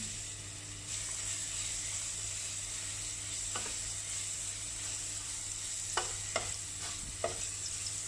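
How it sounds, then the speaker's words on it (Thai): Chopped garlic stir-frying in a little vegetable oil over low heat, a steady soft sizzle with a few sharp clicks of the spatula against the pan near the end, no talking. "เราผัดกระเทียมให้หอมเลย ใช้เป็นไฟอ่อนนะ"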